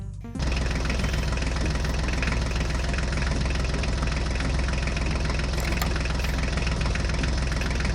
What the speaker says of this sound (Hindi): जल्दी से ट्रैक्टर गाड़ी में बैठ जाओ